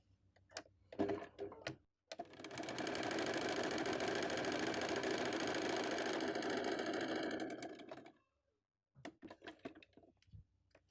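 A sewing machine stitches a patchwork quilt, running in one steady, rapid mechanical burst for about six seconds, with brief handling clicks and taps before and after.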